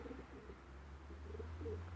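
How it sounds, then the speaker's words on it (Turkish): Domestic pigeons coo softly in a loft, low throaty burbling calls repeating over a faint steady hum, fairly quiet and with no talk. "Bugün güvercinlerimi çekiyorum."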